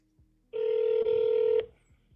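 A single steady electronic ringback tone sounds on a phone call, lasting about a second, clear and close in otherwise quiet surroundings.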